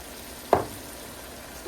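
Seasoned food sizzling in a frying pan with a brief scrape of stirring, a single short burst over a steady faint frying hiss.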